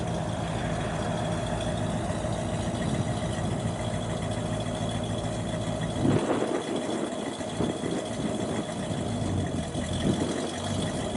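A 1971 Pontiac LeMans Sport Convertible engine idling through a dual exhaust with dual tips, a steady low rumble heard close up with a brief surge partway through.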